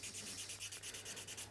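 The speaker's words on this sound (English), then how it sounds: "So we need a little bit of hand sanding," Hand sanding of wood being shaped into chopsticks, a steady rhythmic scratchy rubbing with repeated back-and-forth strokes, close and fairly quiet, with no talking.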